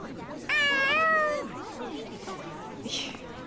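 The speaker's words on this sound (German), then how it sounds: "Katzen höre ich, wenn sie in der Nähe sind." Cat meows in the game Tales of Xillia 2, one long rising and falling call followed by fainter mews, over a busy background of game sounds and chatter.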